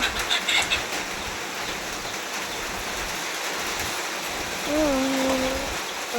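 Steady rain hisses outdoors, a continuous wash of falling water with a brief tonal whine near the end.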